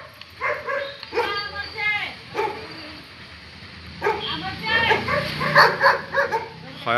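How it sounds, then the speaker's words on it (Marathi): Two or three dogs bark outdoors in repeated bursts of yips and barks, some near and some a little farther off, while people keep talking over them. "हा लय भुकायला लागले बाई."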